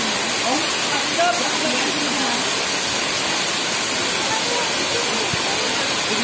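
A curug waterfall in Indonesia roars as a loud, constant broadband rush of falling water, steady and close, with no pauses from start to finish.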